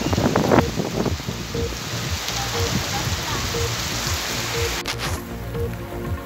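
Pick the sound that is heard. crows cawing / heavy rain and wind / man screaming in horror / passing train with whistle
heavy rain and wind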